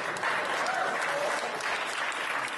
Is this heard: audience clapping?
yes